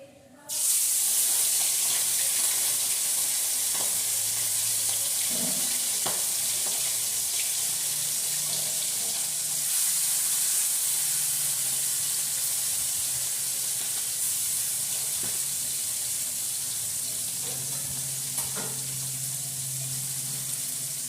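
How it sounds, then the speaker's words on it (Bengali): Fish coated in salt and turmeric sizzles steadily in hot oil, a loud, continuous crackling hiss with occasional small pops. "মাছটাতে দিয়ে এখন ভেজে নেবো"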